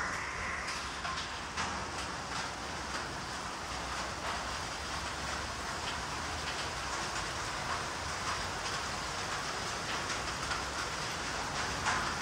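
Steady rain falls outdoors on a misty hill-country stop during a motorcycle trip toward Shimla, a continuous soft hiss that holds evenly throughout with no voices.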